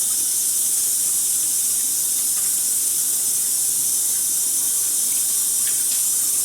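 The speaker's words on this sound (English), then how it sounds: "let me wash my hands one more time" A kitchen tap runs steadily while hands are washed under it, making a continuous, even hiss of water with no one speaking.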